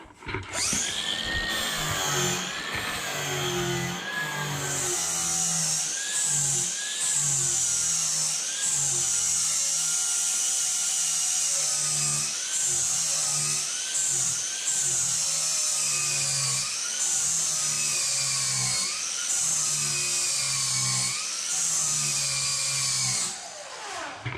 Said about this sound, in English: now we'll get the grinder with the flat disc. We're just going to use a flat disc because we just got to touch them up.